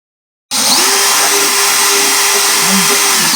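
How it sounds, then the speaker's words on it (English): An electric drill fitted with a 1/8 inch bit reams out a rivet hole for case hardware, starting abruptly after a brief silence and then whining steadily at a constant pitch, close and loud, with a slight dip near the end. "I have an 1/8 of an inch drill bit on here."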